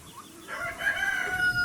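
A rooster crows nearby in a village, a drawn-out call rising over soft clucking hens grazing on grass in the background.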